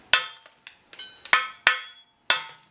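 Slag being chipped off a weld with a chipping hammer, about six sharp metallic strikes at uneven intervals, each ringing briefly, close and loud with no talk.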